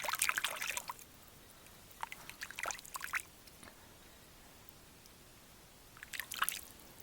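A cleaned trout being rinsed in water outdoors, giving soft splashing and dripping bursts at the start, middle and end with quiet gaps between.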